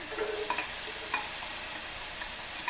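Chopped yellow onion sautés in a pan with a little broth, a steady close sizzle with a few soft clicks and scrapes of stirring, no voices.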